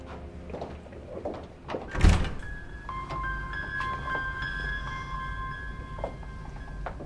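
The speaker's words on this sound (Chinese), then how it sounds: "把门关上。" A door is shut in an office with a single dull thunk partway through, heard close over quiet room tone and faint background music.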